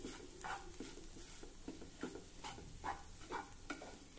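Dal stirred and fried in a pan over low heat, scraped with a spatula to break up lumps, for a Ganesh visarjan prasad: repeated close scraping strokes over a soft steady sizzle, no voices.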